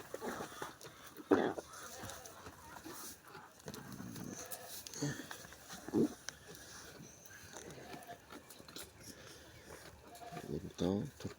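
Goats bleat a few times, short loud calls spaced several seconds apart, while people talk nearby in a farm setting.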